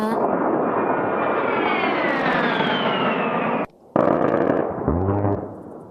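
An A-10 Warthog's Gatling gun cannon fires a long, loud, continuous ripping burst with a descending jet engine whine through it, then breaks off briefly and fires a second roaring burst.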